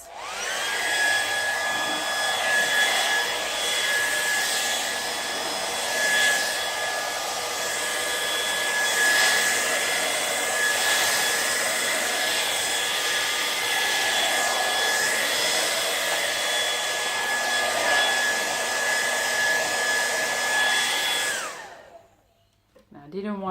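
A hair dryer blows steadily over poured acrylic paint in a Dutch pour on a black base, a loud constant whoosh with a whine that runs for about 21 seconds before cutting off.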